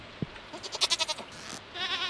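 A goat bleats in the farming game Stardew Valley, giving a quick wavering call of several pulses, then a second trembling bleat, fairly quiet and alone.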